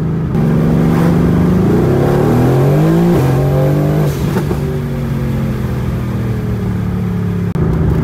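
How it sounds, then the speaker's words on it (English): A Mercedes-AMG GT R sports car tuned to over 800 hp accelerating hard, its pitch climbing through several gear shifts in a loud, close roar; no talking. "I put my foot down for 1 second, I'm going like 80."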